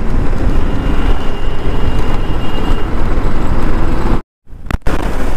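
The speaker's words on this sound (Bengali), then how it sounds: "দেখুন, রেল রাস্তা দিয়ে যাচ্ছে।" A passenger train runs alongside a road in Bokaro district, Jharkhand, as a loud, close, continuous rumble that cuts out abruptly near the end before briefly returning.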